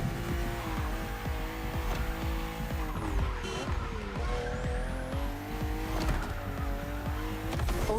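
Racing cars in The Crew Motorfest roar through sharp bends on a narrow road, engines revving up and down while tires squeal and skid repeatedly, loud and continuous throughout.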